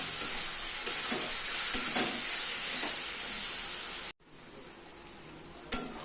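A masala of cumin, chilli and coriander powders mixed with water being stir-fried in a pan for a fish roe curry, giving a loud, steady sizzling hiss with occasional spatula knocks, then a sudden drop to a quieter sizzle near the end.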